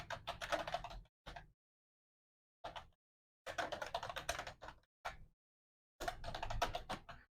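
Typing on a computer keyboard while entering data into a spreadsheet, close and quiet rapid key clicks in several bursts of about a second each, with silent pauses between.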